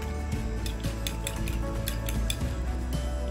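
Green chillies stirred into a chicken and noodle kebab mixture, with a run of scraping, clinking utensil strokes against a bowl in an uneven rhythm, close and fairly quiet.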